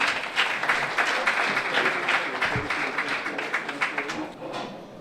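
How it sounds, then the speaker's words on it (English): Crowd applause at an award ceremony in Aba, Nigeria, a dense sustained patter of many hands clapping that carries on steadily for several seconds, with a voice faintly underneath. "A big applause, ladies and gentlemen, once more for the provost"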